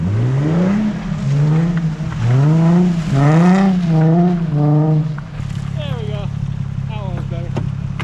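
A Nissan 350Z revving hard on a wet road in the rain, its engine note climbing and falling in repeated loud sweeps before dropping to a lower, rougher hum.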